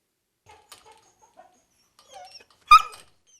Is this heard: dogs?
yes